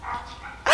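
A dog barks indoors in a few short yips and whimpering barks, fairly close, ending in one louder bark.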